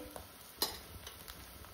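Dry spices, turmeric and red chili powder among them, sizzle faintly in hot oil for a misal over a wood-fired stove, with a soft stir and a single sharper scrape partway through.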